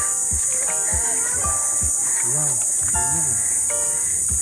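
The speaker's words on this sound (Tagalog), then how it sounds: "Mga kuliglig." Steady, high-pitched cricket chirring fills the background throughout at a riverside nature spot, with people talking over it.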